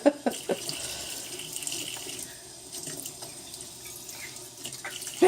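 Water runs from a kitchen sink faucet in a steady, gentle stream with splashes and drips. It starts and ends with a couple of sharp knocks, and it is heard close by.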